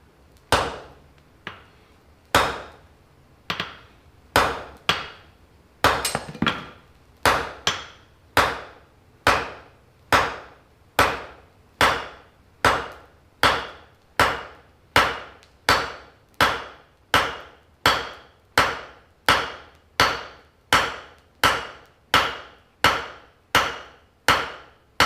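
Hammer striking hot steel on an anvil at a forge, sharp ringing blows at a steady, even rhythm, a few irregular strikes at first and then some two dozen regular hits, close and loud.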